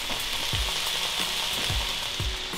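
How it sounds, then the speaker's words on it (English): Breakfast burrito filling fries in a pan with a loud, steady sizzle, broken by a few low knocks as it is stirred, close up and with no talk. "You can already hear it's cooking now."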